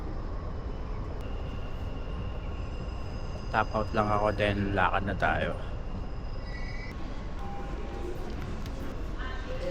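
Steady rumble of a metro train carriage in motion in Dubai, with a nearby voice speaking briefly over the continuous rail noise.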